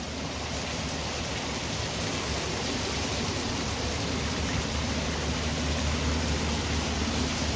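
Heavy rain pours down in a village near Junagadh as a dense, unbroken hiss of falling water, steady and close, with no voices.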